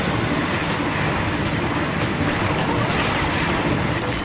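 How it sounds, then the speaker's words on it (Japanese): In the video game Vanquish, a freight train approaches from behind with a loud, dense rumble and a rhythmic rattle of wheels and cars that holds steady for several seconds, with no voices. "後方から貨物列車が接近中。"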